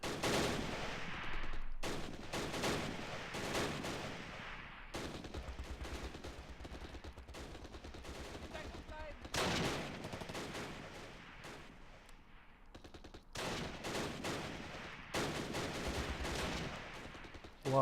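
Gunfire and mortar fire in the Close Combat: Last Stand Arnhem video game, dense bursts of shots and rattling automatic fire at moderate level, with a few heavier booms and brief lulls between volleys.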